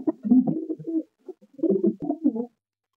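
Pigeons of a Laldom pair coo in low, throaty bursts, two clear phrases separated by a short pause, close and fairly loud against a quiet background.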